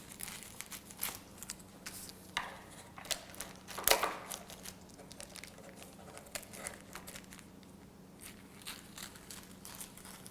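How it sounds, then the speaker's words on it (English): Kitchen scissors snip down the sides of stiff almond cookie dough, giving quiet, scattered crinkly cuts and crunches with one sharper snip near the middle, over a steady low background hum. "we're going to take a kitchen scissors or any type of scissors and cut down the sides."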